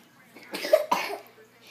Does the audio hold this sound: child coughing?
yes